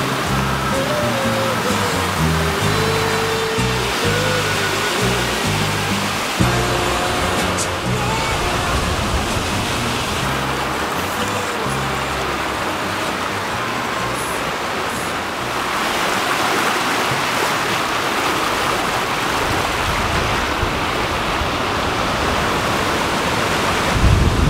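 Waterfalls in the wilderness roar as a loud, steady rush of falling water, with a tonal musical pattern layered over the first part.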